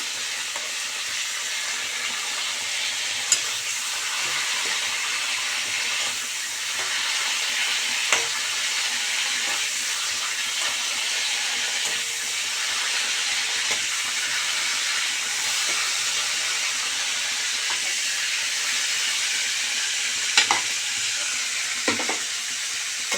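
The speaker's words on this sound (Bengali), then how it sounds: "মশলা ভেজে নিলাম ভেজে উঠিয়ে নেব" Whole spices being fried and stirred in a pan for a home-style country chicken curry, a steady broad sizzle and hiss running throughout with occasional sharper clinks and scrapes of the spoon, no talking.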